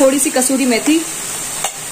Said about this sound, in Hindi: हम इसे अच्छे से चला लेंगे।